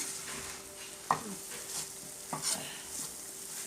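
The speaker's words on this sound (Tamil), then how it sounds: "முருங்கைக்கீரை வந்து ரொம்ப வதக்கணும்னு தேவையில்லை லைட்டாக நம்ம வதக்கி எடுத்துடலாம்" Drumstick (moringa) leaves being lightly sautéed in a pan for murungai keerai paruppu sambar, giving a soft, steady frying hiss with a few spatula stirs and scrapes, close and fairly quiet, with no talk.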